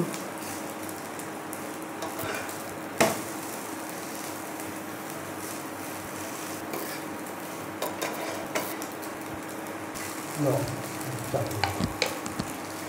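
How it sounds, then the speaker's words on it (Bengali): An egg and potato paratha fries in a pan, flipped side to side, giving a continuous sizzle with occasional scrapes and clinks of a spatula against the pan, close and without talk. "এপিট ওপিট করে ভেজে নেব।"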